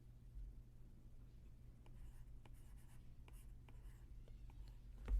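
Pen or marker writing on a board while diagramming a sentence, faint scratchy strokes and taps in short bursts over a quiet room hum.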